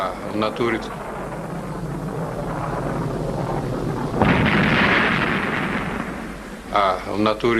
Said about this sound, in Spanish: Este es el momento en que se produce la explosión.